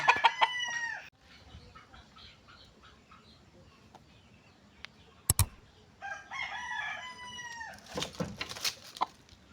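Chickens cluck and crow nearby, with a rooster's call at the start and more clucking and squawks later, plus a sharp knock midway.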